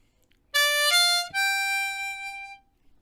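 A blues harmonica lick in the upper register, played in second position with a note on the 6th blow hole: a few sustained reedy notes, a brief pause, then a long held tone that fades, fairly quiet and alone.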